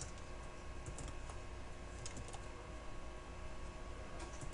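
Steady keyboard typing on a computer during a game-editor tutorial, with continuous quick key clicks at a moderate level and no voices.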